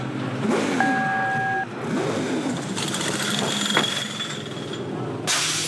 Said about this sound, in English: Jeff Greck and the team pull away car number 2